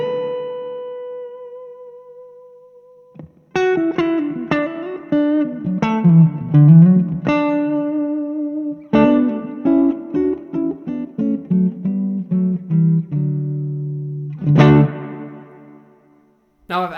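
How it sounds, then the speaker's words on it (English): Telecaster electric guitar played clean through a VOX AC10C1 tube amp: a sustained note fades out, then a run of bright plucked notes and chords with ringing sustain, loud and close, no talking. "I think the Telecaster with the VOX AC10 is just the perfect tone."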